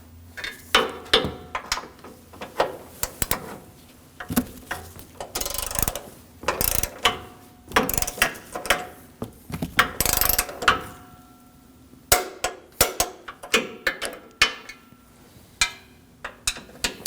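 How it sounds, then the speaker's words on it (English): Torque wrench tightening the three front bumper bolts on a 2016-2022 Honda Pilot, giving repeated close ratcheting clicks in irregular bursts with short pauses between them. "We can torque our 3 front bolts to 16 foot-pounds."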